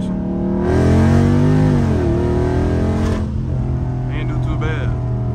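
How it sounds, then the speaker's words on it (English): A Dodge Charger Scat Pack revs hard through a second-gear pull with the tires breaking traction, a loud, rising engine roar that surges, dips and settles into a steady drone, with a voice speaking over it. "Oh my goodness, second gear pull with no traction."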